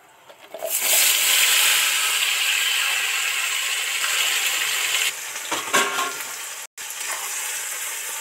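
Grated and sliced onions with tomatoes are tipped into hot oil for a mutton curry, bursting into a loud, steady, close sizzle that holds for several seconds, with a brief break and some stirring clatter near the end.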